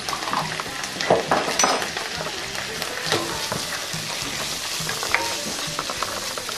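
Chopped ginger, garlic and onion sizzle and fry in a pan for a beef curry, a loud, continuous crackling hiss with occasional stirring scrapes, close up and without talking.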